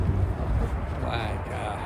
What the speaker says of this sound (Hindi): हवा इतनी तेज़ है कि बहुत तेज़ है